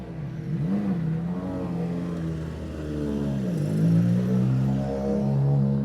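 A rally car driving off into a stage at WRC Rally Chile 2023, its engine rising and falling through revs in steady droning waves, fairly close and loud, with no talking.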